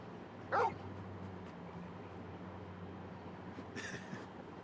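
Torgal, the large dog companion in Final Fantasy 16, gives a short sharp bark early on, then a few fainter yips later over a low steady in-game background hum.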